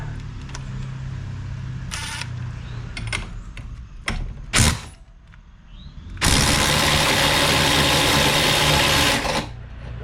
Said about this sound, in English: I'm going to try to do it with my little impact.